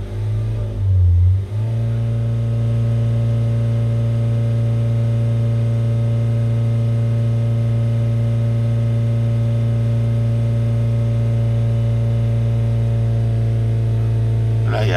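A car engine fitted with a new air flow meter that is suspected to be faulty, tested under acceleration: the revs shift briefly near the start, then settle into a steady, loud, close-up drone with a strong low hum.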